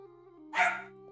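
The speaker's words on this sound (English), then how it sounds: "she heard something and now she's barking." A puppy lets out a single short bark in a room, close and moderately loud, over a steady low electronic hum from game music.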